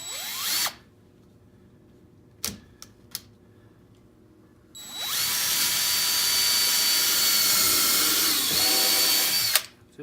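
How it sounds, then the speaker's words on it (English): A drill bores a pilot hole into oak hardwood, with a short burst of motor whine, a few sharp clicks and knocks, then a sustained high-pitched drilling whine for about five seconds before stopping. "since this is oak hardwood, and I didn't think it would matter, but it does, we're going to pre-drill"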